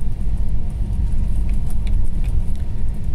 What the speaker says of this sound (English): today I'm traveling on a shuttle bus from central bus station in Sofia to my dwelling